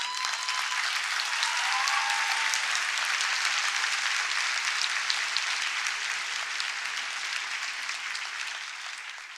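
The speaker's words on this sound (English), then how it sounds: "Let's give a big round of applause to one another." A large audience at an international youth peace conference applauds steadily for several seconds, dense and even, with no voices, then slowly tapers off at the end.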